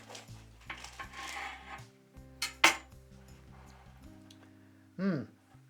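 Knife and cutlery clinking against a plate while cutting open baked frozen vegan sausage rolls, a few sharp metallic taps and scrapes close by, with a clearer clink near the end.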